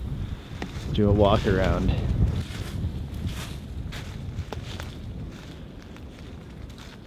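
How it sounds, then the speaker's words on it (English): Wind gusts buffet the microphone at a campsite at Kepler Overlook, a steady rushing roar under a voice speaking briefly near the start, with faint rustling and thuds afterward. "The wind is really blowing."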